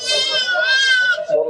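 A castrated goat at a busy goat market lets out one loud, wavering bleat close up, lasting over a second before cutting off.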